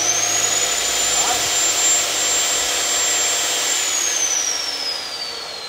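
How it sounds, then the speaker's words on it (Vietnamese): A Bosch GCO 220 metal cut-off saw motor runs steadily with a loud, high whining hum and a rushing airflow roar that stays even and unbroken from start to finish. "Cái này nó chạy rít động cơ và mạnh, và cái gió của nó cực mát luôn."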